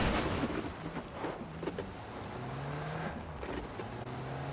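A car driven in the PUBG battle royale video game, its engine humming and revving steadily at moderate loudness throughout, with broadband road and wind noise layered over the continuous motor drone.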